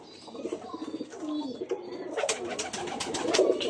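Golden breeder pigeons coo in soft, repeated throaty calls close by. Their chicks are in the pen, and someone talks over the birds throughout.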